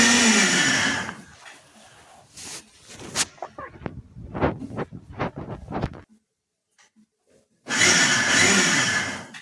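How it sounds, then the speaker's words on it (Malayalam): A kitchen mixer grinder whirs loudly as it grinds coconut, then stops. Light clattering and tapping of the jar follow, then near silence, before the motor roars up close again for a second run. "അപ്പോൾ ഞാനിതിപ്പോൾ മിക്സിയിൽ അടിക്കാനൊക്കെ ഇട്ടിട്ടുണ്ട്."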